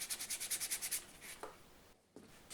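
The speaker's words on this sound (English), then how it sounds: "Now for one final sand, just to get the edges off after sanding on the sanding disc." Hand sanding the edges of a wooden piece: a quick run of about eight soft, rhythmic rubbing strokes, then two slower, separate rasps, quiet and close with no talking.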